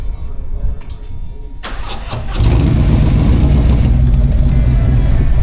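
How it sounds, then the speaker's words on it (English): A motorcycle at an outdoor camping spot cranks briefly, then fires into a loud, close, steady idle that continues to the end, with quiet background voices beforehand. "I think once George starts his bike, they'll come running."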